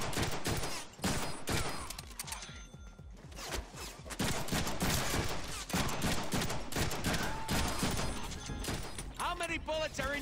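Deadpool's guns fire in a video game, with rapid bursts of gunfire and mechanical clatter running densely through the whole stretch under a voice talking over the game.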